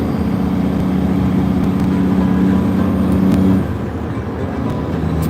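Semi truck engine with a 13-speed manual transmission, a loud steady diesel drone with a strong low hum that drops in level partway through, as if easing off the throttle, with no talking.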